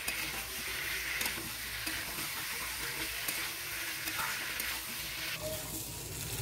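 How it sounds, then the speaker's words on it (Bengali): Small new potatoes frying in spice masala for Bengali aloo dum give off a steady, soft sizzle with faint scraping from stirring, continuous and fairly quiet throughout. "ওই মশলার মধ্যে আলুগুলো ভালো করে 3 থেকে 4 মিনিট কষে নেব"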